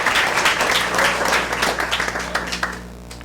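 An audience at a school board meeting claps in a short burst, the dense applause thinning into scattered individual claps as it fades, over a low steady room hum.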